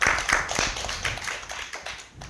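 An audience at a healing-center health lecture gives a brief smattering of clapping, several quick claps close together that fade within about two seconds.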